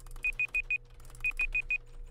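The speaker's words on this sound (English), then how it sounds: "This timer hurts my ears so bad." A game countdown timer gives two bursts of four sharp, evenly spaced high beeps, loud and close, with a short pause between the groups and no talking over them.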